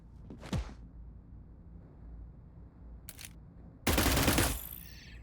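Gunfire from the tactical game Cyber Knights Flashpoint: one sharp shot early, a short burst a few seconds later, then a louder, sustained volley that fades out, each separated by quiet background.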